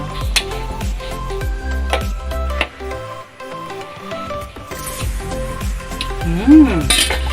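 Chicken with cream and corn cream style is stirred in a pan, with utensil scrapes, clinks against metal and a soft sizzle running throughout, close and moderately loud, with brief vocal sounds near the end.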